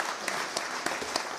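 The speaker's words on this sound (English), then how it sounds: "a round of applause for our panelists here" An audience applauds at a public safety forum, with dense, continuous clapping from a crowd and a few louder individual claps standing out.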